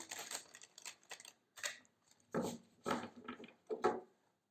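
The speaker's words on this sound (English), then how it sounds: "Let me shuffle." A deck of tarot cards is shuffled in several quick riffling bursts, close and fairly quiet, with short pauses between each shuffle.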